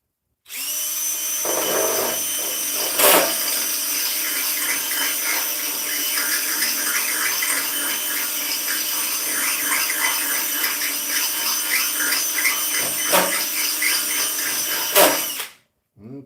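Power drill boring starter holes through tape laid over painted metal, a steady close whine running nearly unbroken for about fifteen seconds with a couple of brief sharp knocks, then cutting off.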